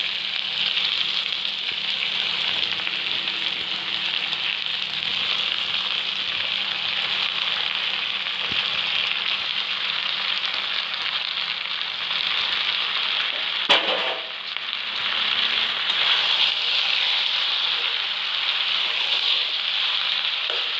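Chicken pieces frying in hot oil, a steady loud hiss and crackle of sizzling that continues throughout, with a brief clatter partway through.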